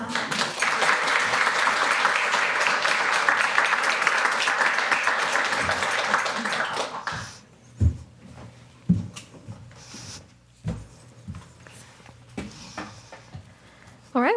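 Audience at a 200th-episode podcast event applauding, heard as loud sustained clapping for about seven seconds that then fades out to room noise, with scattered faint claps and talk afterward.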